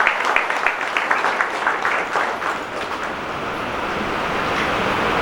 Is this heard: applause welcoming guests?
yes